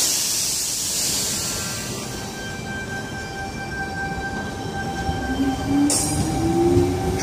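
A Sydney Tangara electric train departs Oatley station on a Cronulla service, a steady rumble of rolling wagons with a long high wheel squeal and a rising motor whine near the end, close and loud.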